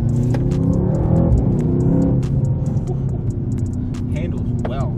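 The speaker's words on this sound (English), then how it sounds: "Downshifts sound very aggressive." A Mercedes C63s AMG engine roars under hard driving, loud and close from inside the cabin, with sharp crackles and pops over a low droning growl.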